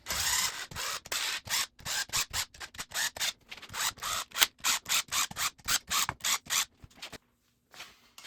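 Impact wrench running down bolts on a 1997 Cobra engine during a rebuild, firing a rapid string of short, sharp bursts with brief gaps, close and fairly loud, before stopping near the end.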